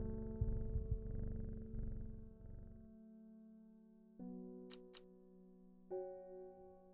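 A cat purrs in a video game while being petted, a soft rumbling purr lasting about three seconds, followed by tonal game effects and chimes.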